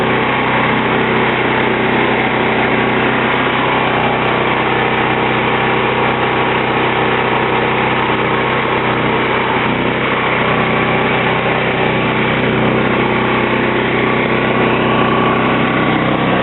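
Emergency generator engine running loudly and steadily at close range, a constant unbroken drone with no noticeable change in speed throughout.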